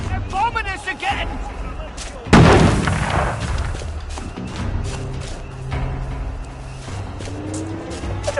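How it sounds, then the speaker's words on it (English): Bombing in the video game We Happy Few, with a sudden loud explosive blast partway through that decays into rumbling debris and scattered pops, while voices speak before and after the impact. "They're bombing us again!"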